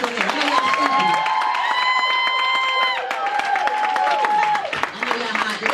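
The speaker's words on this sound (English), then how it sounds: "If you're a regional director, y'all clap a little harder than that." Audience of regional directors at a 2016 Total Life Changes ambassador event clapping and cheering loudly and continuously for about six seconds, with shouts and a few voices calling out over the crowd.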